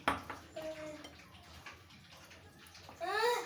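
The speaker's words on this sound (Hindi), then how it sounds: "थोड़ा थोड़ा पानी डालूंगी।" Water is poured a little at a time into potato fritter batter in a bowl, making short splashing bursts, with a brief voice in between.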